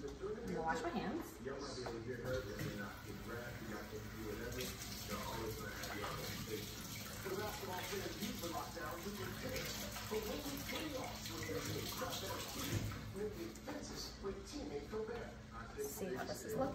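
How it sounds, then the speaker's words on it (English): Water runs steadily from a kitchen tap as hands are washed during a cooking demonstration, a continuous splashing stream heard alongside a person talking. "I'm gonna wash my hands."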